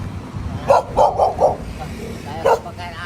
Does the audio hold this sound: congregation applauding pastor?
no